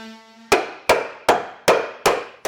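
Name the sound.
hammer striking a wood block to bend a metal bracket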